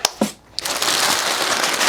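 Crisp crinkling and rustling of packing paper while unboxing a supercharger kit, starting with a couple of sharp crackles, then a steady close-up rustle.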